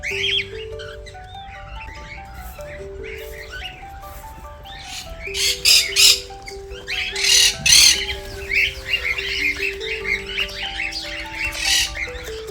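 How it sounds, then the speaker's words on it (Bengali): Assorted duck species squawking and calling in a small enclosed bird garden aviary, a busy mix of repeated harsh squawks and chirps, some loud bursts close by, with other birds calling in the background. "বিভিন্ন প্রজাতির হাঁস আছে এখানে"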